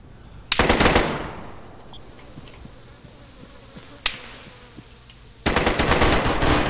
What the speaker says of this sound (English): I was getting shot at from behind!